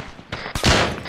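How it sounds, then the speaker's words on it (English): Gunfire in the ArmA3 military video game: a rapid burst of several sharp, loud shots in about a second, close and punchy. "Incoming shots, I don't know from where."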